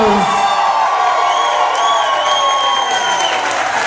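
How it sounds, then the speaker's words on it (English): Wedding reception guests clap and cheer for the newlyweds after the first dance, a loud sustained crowd roar with whoops over music. "I said a tremendous round of applause."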